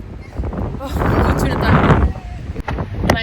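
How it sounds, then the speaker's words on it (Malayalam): Strong gusty wind blows at an outdoor spot in the USA, roaring and buffeting the microphone in rising and falling surges that stay loud throughout. "ഇവിടുത്തെ കാറ്റ് കൊടുങ്കാറ്റാണ് ഗൈസ്."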